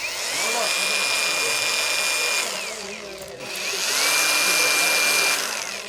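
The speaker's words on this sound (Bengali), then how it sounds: "এটা হলো ব্যাটারি গ্র্যান্ডিং মেশিন" Cordless battery-powered grinding machine with a 108-volt lithium battery, revving in a loud, steady high whine, briefly winding down mid-way and then spinning back up, heard close with no talking over it.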